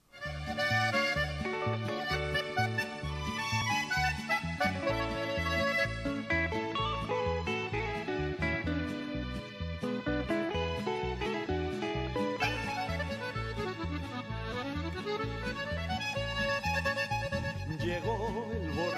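A music track plays on a Christian FM radio program, full and steady for the whole stretch with dense sustained instruments and melodic lines, no talk over it.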